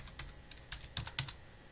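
Several quick keystrokes on a computer keyboard while a search term is typed into OpenEMR medical records software, a short uneven burst of close, crisp clicks with no talking.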